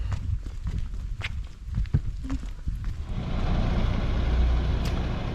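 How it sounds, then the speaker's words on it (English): A bus rolls past outdoors with a hiss of air brakes and a swelling rumble of its engine, following scattered footsteps and light clatter nearby. "That's the bus that takes Kyra to the airport."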